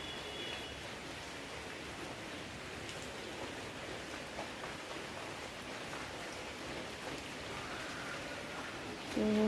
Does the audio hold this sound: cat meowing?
no